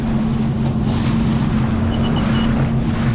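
A Sea-Doo GTR 230 jet ski cruises along mangrove waterways on the Gold Coast, its loud steady engine drone and hull spray blending with heavy wind buffeting the microphone throughout.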